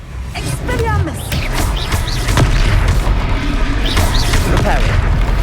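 Spell blasts in the video game Hogwarts Legacy, loud booming hits and crackling impacts over a dense, continuous battle din with whooshes, while a voice calls out spell names over the action.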